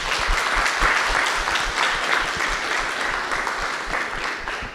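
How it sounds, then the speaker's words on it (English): Staff at a district board meeting give the board a round of applause: a dense, steady wash of many hands clapping that holds at full strength throughout, with no voices standing out. "we should give them a round of applause"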